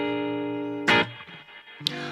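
Electric guitar played through a Boss GT-1000 Core with reverb, a sustained chord ringing out and decaying, then two sharp strums that bloom into a lingering reverberant tail.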